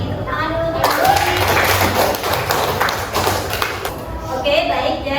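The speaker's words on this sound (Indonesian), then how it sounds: "Tepuk tangan dulu." A vocational high school class in Makassar claps hands for a few seconds, a dense patter of taps close by, with a teacher's voice over it.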